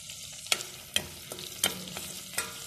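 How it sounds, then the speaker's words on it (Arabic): Calamari pieces fried in margarine and stirred, with soft sizzling under five or six sharp utensil scrapes and taps against the pan at irregular intervals, close up. "قطع الكالامار المتبقية راح نزيد نقلوها هنايا. فوالا كتدبيرة نقلوها شوية في هذيك المارغارين."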